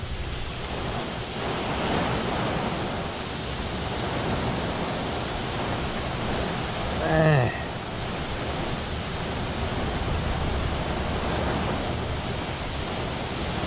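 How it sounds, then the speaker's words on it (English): Torrential rain pours down in a heavy summer thunderstorm with strong wind, a dense unbroken roar heard from inside a car, with a brief rumble of thunder midway and a single short word from a man. "It's a torrential downpour with lots of heavy wind"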